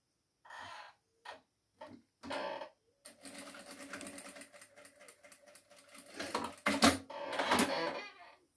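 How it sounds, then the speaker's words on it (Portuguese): Sewing machine stitching two small pieces of fabric placed right sides together for a placemat, with short separate bursts of stitching followed by a longer continuous run that grows louder toward the end, close up and with no talking. "Coloco direito com direito e costuro."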